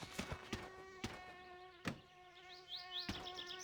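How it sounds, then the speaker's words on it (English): Wasps buzzing around a glitching nest in the video game My Summer Car, a faint steady insect drone with rising whines, broken by several sharp clicks. "Because I don't want to deal with a glitching wasp nest every 5 seconds."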